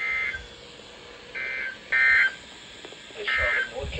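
NOAA Weather Radio all-hazards alert test tones sound as a series of loud, steady electronic beeps in separate bursts over a low background hiss.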